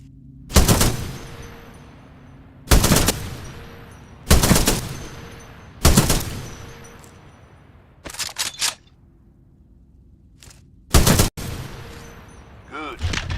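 Weapon shots on a Titanfall 2 firing range crack out as loud single blasts spaced a second or two apart, with a quick double burst in the middle, a voice talking between shots.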